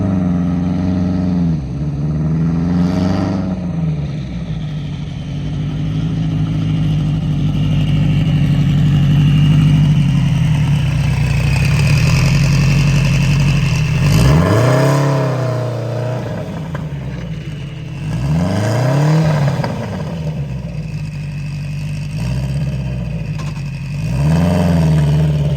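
A Subaru WRX at a race track idles with a low, steady rumble, then revs up several times, rising and falling, the engine close and fairly loud throughout with no talking.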